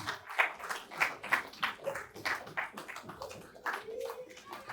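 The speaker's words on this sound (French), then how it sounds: "Applaudissez pour Maman Naomi aussi." A small group claps for an association treasurer at a Mother's Day celebration of an African women's group, uneven bursts of hand claps rising and falling, fairly faint, with some voices mixed in.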